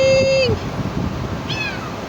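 A cat meows outdoors in windy weather after a storm, one drawn-out meow followed by a shorter, falling one, close by over a low background rumble.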